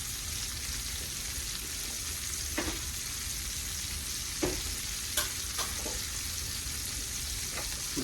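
Three small cloves of chopped garlic fry in a pan with veal shoulder, making a steady close sizzle broken by a few sharp scraping stirs. No one speaks.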